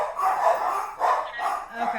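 A dog gives a few short, close barks in quick bursts, separated by brief pauses.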